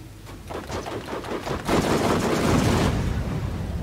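Video game machine gun fire in Borderlands: rapid automatic bursts, loud and close, first as distinct rattling shots and then as a dense, sustained barrage.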